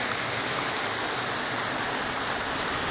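The Guarruz creek flows in a steady, broadband rush of water, continuous and even throughout with no voices.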